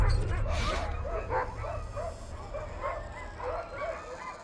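A pack of sled dogs whimpers and yips repeatedly in short, fairly close cries over a low wind rumble, facing an approaching polar bear.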